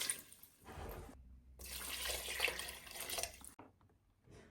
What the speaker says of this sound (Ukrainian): Відразу відправляю їх в каструльку і заливаю півтори літри холодної чистої води.